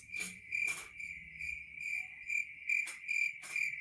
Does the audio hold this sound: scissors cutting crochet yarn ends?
no